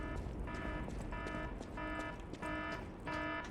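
Alarm in the video game Lies of P: a repeating electronic tone sounds in five evenly spaced bursts over a low, steady background, moderately loud and with no voices.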